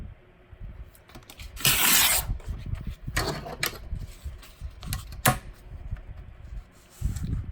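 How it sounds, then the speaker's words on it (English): Paper edges trimmed along a ruler while altering a book for collage, heard as several close scraping, tearing rasps in short bursts separated by quiet pauses. "just trim off the edges with your ruler"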